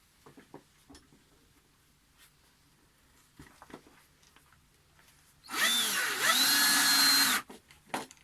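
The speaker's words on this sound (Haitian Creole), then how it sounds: "Maintenant, on va le mettre, on va le visser carrément." A power drill drives a screw during electrical installation work, a loud whirring burst of about two seconds following soft handling clicks and taps, with a few light knocks afterward.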